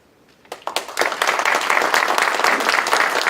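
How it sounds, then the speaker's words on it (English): Audience applause at a retirement ceremony for a sergeant, starting after a brief quiet moment and swelling into steady, sustained clapping from a sizable crowd. "Please hold your applause until all names are read"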